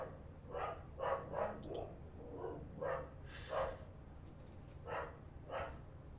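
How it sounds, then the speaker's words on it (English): Several dogs barking in bursts outside a house as someone walks a dog past, moderately distant with an irregular rhythm of repeated barks over a low background hum. "Somebody must be walking their dog in front of the house, and so the dogs are going off."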